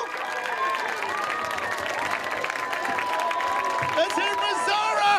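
A pub audience at a competition claps and cheers for a contestant, a sustained loud wash of applause with whoops, and voices calling out over it.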